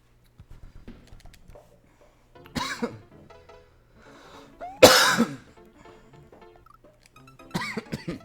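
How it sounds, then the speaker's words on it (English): A person coughs in three separate bursts, the middle one the loudest and harshest, with quiet background noise and faint clicks between them. "This cough is making it hard."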